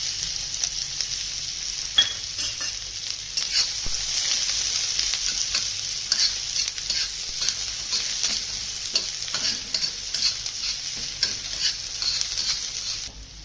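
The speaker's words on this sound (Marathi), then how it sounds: "आता तेल गरम होऊ देते झालंय गरम बघा त्याच्यामध्ये आता एक कांदा चिरलेला टाकून घेते" Chopped onion frying in hot oil on a flat pan, a steady bright sizzle throughout with faint scraping and stirring clicks on top, close and continuous without voices.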